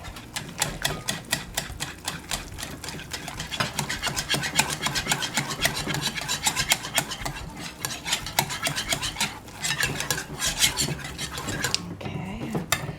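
Egg worked into a meatball mixture in a bowl, giving a dense, continuous run of fast scraping, clicking and squelching from utensil against bowl, fairly close and without pause.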